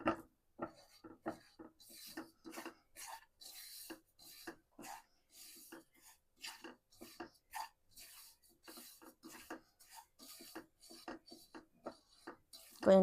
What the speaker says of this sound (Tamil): ரவையை நல்லா வறுத்து எடுத்துக்கலாம். இந்த நெய்யிலே வறுத்து எடுக்கலாம்.